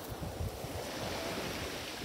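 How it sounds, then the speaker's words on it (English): Ocean waves break and wash steadily onto a beach where sea glass is being gathered, a continuous loud roar of surf with wind buffeting the microphone. "the waves are just gonna build up here. There's one. Here comes the next one."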